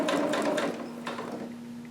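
Short close burst of a domestic sewing machine stitching a dress bodice, a rapid clattering run that slows and fades into a faint hum within two seconds.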